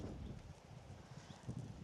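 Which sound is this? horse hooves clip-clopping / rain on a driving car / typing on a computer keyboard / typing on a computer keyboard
horse hooves clip-clopping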